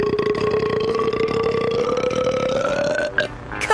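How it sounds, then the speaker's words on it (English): A cartoon female character lets out one long, loud, drawn-out burp during a burping contest, its pitch rising gradually before breaking off near the end. "Burping contest?"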